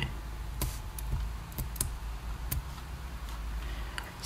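Computer keyboard keys pressed on a PC while working in Axure RP 9, a few sparse, crisp clicks spaced irregularly over a faint steady background hum, close and fairly quiet.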